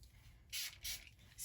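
Short hisses from a spray bottle, three quick bursts spaced evenly against a faint low background, soft and close with no talking.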